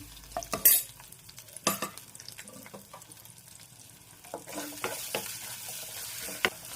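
Green chillies and grated ginger sizzle in hot oil in a kadai, with a steady frying hiss broken by a few sharp stirring scrapes and clatters close by.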